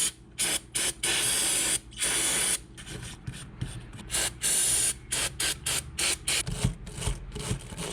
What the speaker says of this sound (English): we're gonna start off with some brake parts cleaner